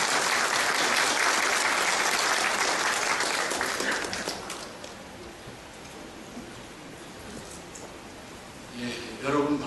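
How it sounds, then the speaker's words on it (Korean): Crowd of professors at a national rally in Korea claps for a speaker's introduction, a loud rain-like burst of applause that fades after about four seconds into quieter room noise. "박수 보내주십시오"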